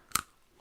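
A single sharp crunch of a pretzel being bitten, close and brief, with a faint softer chew afterward and no talking.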